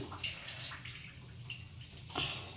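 Washed lentils poured through a strainer into a pot of hot water in a home kitchen, giving a steady wet splashing and trickling with a few brighter drips, moderately close and with no one talking.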